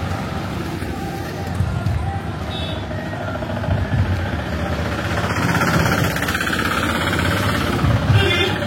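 A tractor engine runs with a steady low rumble and broadband noise throughout, near and fairly loud, at a village school festival in Hampi, India, where music is being played from the tractor.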